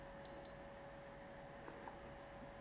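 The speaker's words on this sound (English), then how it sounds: "You may have heard the beep from the unit." A SwitchBot Smart Humidifier Series 2 gives a single short electronic beep while pairing, clear and close against a quiet room hum.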